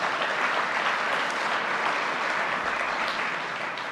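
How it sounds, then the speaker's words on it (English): Audience applause at a municipal association annual general meeting and conference in Ontario, a dense uniform wash of many hands clapping at once, steady and full for the whole stretch with no talk over it. "Please give them a round of applause."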